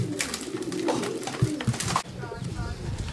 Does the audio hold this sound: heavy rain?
no